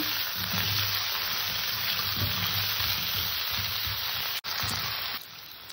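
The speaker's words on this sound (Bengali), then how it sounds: "আলু কাঁচকলাটাকে আমি একটু আগে ভেজে নেব, হালকা ভাজা ভাজা করে নেব।" Potato and green banana pieces fry in hot oil for a fish curry, giving a dense, even sizzle that holds steady and close, then dips briefly and eases near the end.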